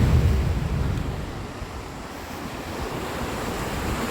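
Ocean surf around a famous blowhole on the Tahiti coast, a loud rushing wash that eases after a strong opening surge, with wind buffeting the microphone throughout.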